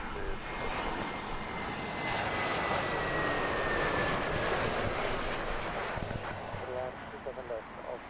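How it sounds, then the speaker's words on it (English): Austrian Airlines Airbus A320neo arriving from Vienna on approach to land at Heathrow, a loud steady jet roar that holds throughout and eases slightly near the end, with a voice talking over it. "This one's coming in from Vienna on an A320neo."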